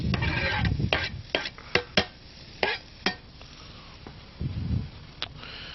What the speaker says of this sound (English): Get a nice bright color from the sauteing and the carrots jumping out of the pan